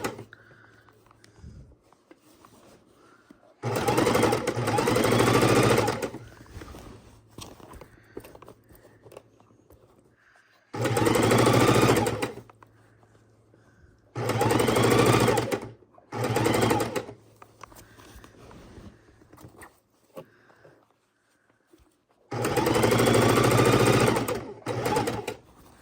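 A sewing machine runs in several loud bursts of rapid stitching on quilt binding, separated by quiet pauses with faint handling noises.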